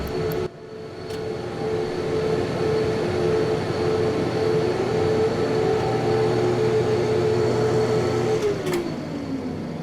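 Cooling fans whir steadily on a 1980s 14-inch hard drive system, a loud continuous hum with a steady low drone and a faint higher whine, holding level throughout with no talk.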